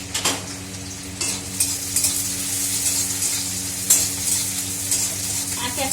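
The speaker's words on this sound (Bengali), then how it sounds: "এই যে সব পেঁয়াজ দিলাম, গ্যাস তেজ করে দিলাম।" Onions frying in a pan over a high gas flame, a steady close sizzle with occasional stirring scrapes and faint utensil clinks, no talk.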